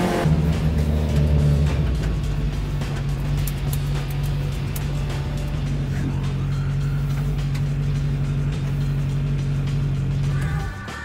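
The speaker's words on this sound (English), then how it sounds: "you could do a lot worse than drive one of these Aussie racing cars" An Aussie racing car engine drones loudly and continuously while driving, a steady hard-working note close up that holds for several seconds before easing slightly at the end, with no talk.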